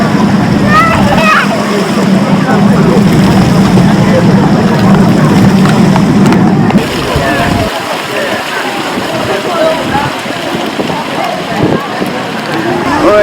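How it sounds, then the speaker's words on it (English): Water feature at St Pancras station in London splashing steadily, loud and continuous for the first half, then a busy station hubbub with scattered voices as the splashing fades. "And this is a rather nice water feature."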